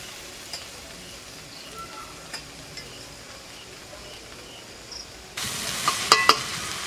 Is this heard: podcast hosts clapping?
no